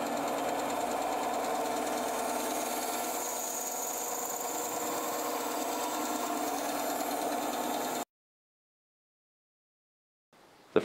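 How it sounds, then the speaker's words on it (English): Bandsaw cutting a cast Alumilite resin fishing lure body, a steady close-up rasping whine that runs continuously for about eight seconds before cutting to near silence. "determine the different areas in which you want to splice the piece and then cut using a bandsaw"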